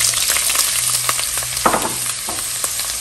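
Chopped onion fries in a little oil in a pot, giving a loud, close, continuous sizzle with scattered crackles and stirring scrapes.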